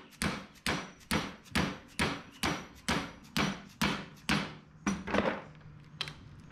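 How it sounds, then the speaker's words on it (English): A metal tube, wrapped in tape at the nut, is hammered around a bending jig on a 1961 Chevrolet Parkwood wagon build: about a dozen sharp, evenly spaced taps ringing close by, with no talking. "we're gonna tap on this and bend it around that"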